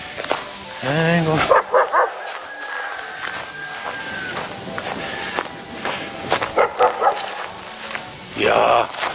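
A dog barks and yips several times out in the countryside at a rural weekend-farm plot, with rooster crowing and ducks nearby, heard under people talking and footsteps.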